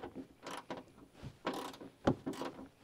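Ratcheting clicks and metallic handling as a 10 mm wrench tightens a ground bolt during a fog light switch install, a few short bursts spread irregularly across the clip, moderately close and fairly quiet, with no talk.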